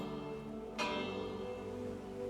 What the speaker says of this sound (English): followed by the echo of the ship's bell